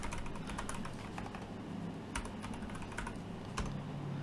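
Rapid, uneven keystrokes on a computer keyboard as someone types a secure shell login command in a Unix terminal, with clustered clicks and brief pauses over a steady background hum, close and clear.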